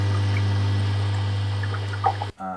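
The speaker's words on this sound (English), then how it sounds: "My dishwasher, which I just recorded with a handheld recorder." A household dishwasher running, recorded close with a handheld recorder, with a steady low hum and sloshing, trickling water, ending in a sudden stop followed by a faint rattle.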